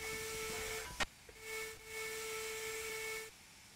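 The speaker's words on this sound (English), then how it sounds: "you've got your spacebar whistle." A steam whistle from an Andrew Barclay 10 inch steam locomotive in a train simulator game sounds in two steady blasts, a short one then a longer sustained one, clear and alone with a faint hiss.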